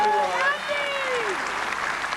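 A crowd at a show jumping event in Narrabeen, Australia, in 1985 claps steadily after a round, somewhat distant, under a commentator's voice at the start.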